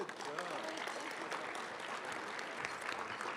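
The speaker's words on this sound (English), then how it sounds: "Please join me in a round of applause for all of our winners." An audience at a business forecast event applauds the winners, a steady, distant-sounding wash of clapping lasting a few seconds, quite faint overall.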